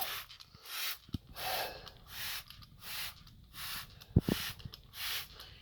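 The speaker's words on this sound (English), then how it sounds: "we're going to spray our evaporator coil down" Cleaner is sprayed onto the evaporator coil of a GE 5050 BTU window air conditioner in a series of about seven short hissing bursts in a steady rhythm, with a couple of knocks in between.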